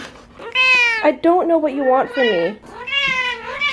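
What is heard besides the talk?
cat meowing indoors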